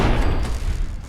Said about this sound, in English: you probably guessed that there will be explosions by me saying that